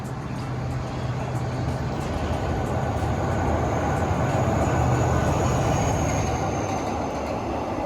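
A KiHa 183 diesel train crosses the Chulalongkorn steel bridge at Ratchaburi, producing a loud, continuous rumble of wheels and engine with rhythmic clacking and a faint metallic squeal throughout.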